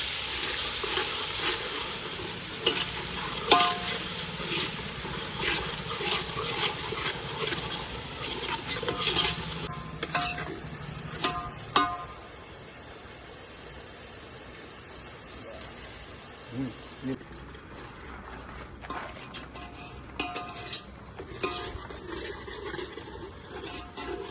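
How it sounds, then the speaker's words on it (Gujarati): Onion going into masala in a pan, giving a steady broadband sizzle with scraping stir strokes that is strong at first and then settles to a quieter hiss, alone with no talk. "આપણે ડુંગળી એડ કરી દઈશું"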